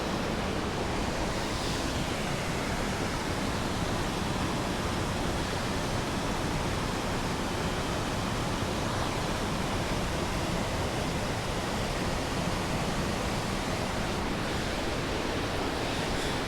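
A waterfall in White River Gorge produces a constant broadband roar of rushing water, steady and loud throughout with no breaks or voices.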